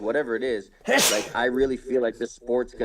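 One sharp, breathy sneeze bursts out briefly in the middle of a man's ongoing speech during a live sports talk show, close and loud, with talking before and after it.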